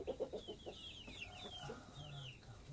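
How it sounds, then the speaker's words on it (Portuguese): Hens in a backyard henhouse clucking close by, a quick run of sharp clucks at first, then scattered squawks and softer chatter, with a faint high twittering of small birds behind. "A gente tá aprendendo a cuidar das galinhas."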